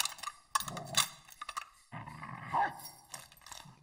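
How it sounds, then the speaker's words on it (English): A growling, barking attack dog in a Call of Duty: Vanguard Search & Destroy match snarls close by, mixed with dense game noise over nearly four seconds. "My own dog just scared the shit out of me."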